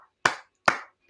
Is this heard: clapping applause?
yes